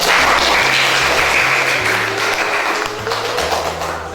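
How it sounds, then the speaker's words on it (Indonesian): Classroom applause for a student's answer during an Excel lesson, a steady burst of clapping from a group that fades slightly toward the end, with low tonal background sounds underneath. "Tepuk tangan buat ini"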